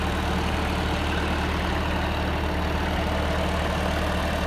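Old John Deere 2020 tractor pulling a bush hog through tall pasture weeds near a road, a steady low diesel rumble and drone throughout with no change in pace and no voices.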